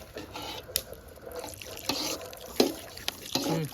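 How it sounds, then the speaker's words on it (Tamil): Water is poured into a pot of pork curry during outdoor village cooking, a continuous moderately quiet splashing pour with small irregular splashes and drips. "இப்போ பார்த்தீங்கன்னா தண்ணி ஊற்றுறேங்க."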